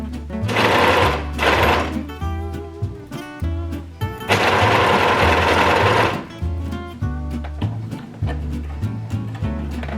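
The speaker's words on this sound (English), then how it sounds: "So I'm going to quickly overlock the inside leg and then stitch around the crotch." An overlocker serges the inside leg seams of pink flared trousers in loud, fast whirring bursts, two short runs then a longer one, with the motor's hum and clatter between.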